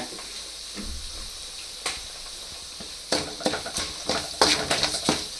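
Sambar powder spices sizzle and crackle in hot oil while a spoon stirs and scrapes against the pan in short, irregular bursts, close by.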